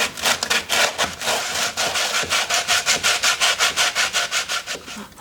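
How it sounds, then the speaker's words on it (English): Steady back-and-forth sanding strokes with 180-grit sandpaper on a sanding block over a wooden dolls house door opening, a dry rasping rhythm that starts irregular and settles into quick, even passes, close up with no talking. "I've got a piece of 180 grit sandpaper here wrapped around a sanding block, and I'm just going to sand over"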